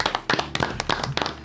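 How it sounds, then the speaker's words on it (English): A small group clapping during a live stream about a Stop the Violence effort, quick irregular hand claps close by, with a voice faintly in the background. "Let's clap it up."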